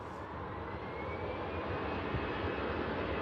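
Lufthansa jet airliner taxiing out toward the runway for Munich, a steady broadband engine rumble and whine holding at moderate level throughout, with no voices.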